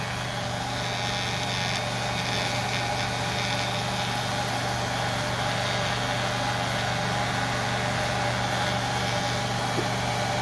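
A freshly sharpened hair clipper hums loudly and steadily at close range, its constant motor buzz continuing as the blades shave through hair.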